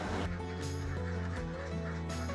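Ducks at a duck farm in a village of duck breeders and salted-egg makers, a dense flock quacking continuously and loudly at close range, with repeated harsh calls overlapping against steady background noise.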